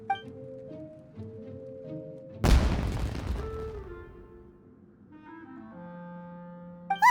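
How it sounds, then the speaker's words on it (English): A sudden burst of fireworks exploding in Genshin Impact cuts through soft background music partway in, with a loud crackling crash that slowly fades back into the score. "It sounded like fireworks."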